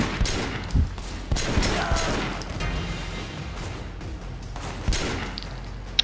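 Rapid bursts of gunfire in the TriadWars video game, loud and close, with sharp repeated shots and clattering impacts over a steady background din and no talking.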